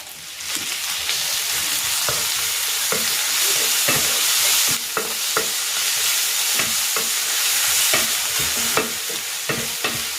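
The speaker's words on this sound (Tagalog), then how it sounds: "pag ganitong nagisa na ng maayos yung bagoong alamang" Bagoong alamang shrimp paste sautés with pork in a pan, a loud, close sizzle broken by repeated sharp clicks and scrapes of a spoon stirring against the metal.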